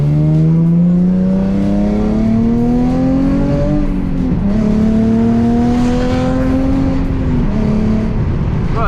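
A Nissan 350Z engine fitted with a new aftermarket exhaust revs loud and close, its steady drone climbing in pitch, dipping briefly around the midpoint, then rising again with no voices over it.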